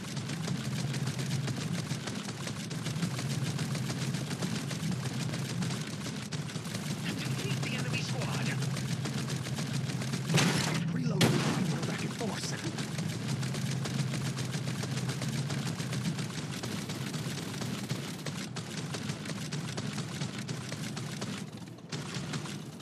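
Gunfire from the Farlight 84 video game rattles in dense, steady bursts over a constant wash of game noise, with a louder, brief burst partway through.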